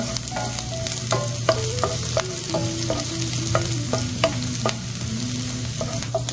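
White onion fries in hot oil in a pan, with a continuous close sizzle and repeated scraping stirs in an irregular rhythm.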